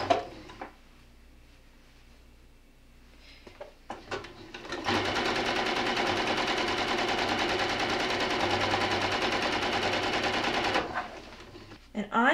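A sewing machine stitches fabric for a pet bed in one continuous fast, loud run of needle chatter lasting several seconds, framed by quieter handling clicks and a short stop at the end.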